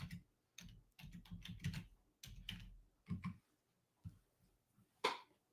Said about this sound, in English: I'm just typing something I shouldn't be typing